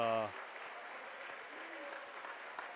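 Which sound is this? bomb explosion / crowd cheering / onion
crowd cheering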